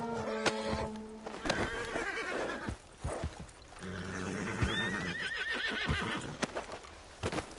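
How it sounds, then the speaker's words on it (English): Horse in the Red Dead Redemption 2 video game whinnying loudly in several bursts, mixed with clip-clop hoof steps and thuds, close and clear against a quiet game background. "Get me off this horse!"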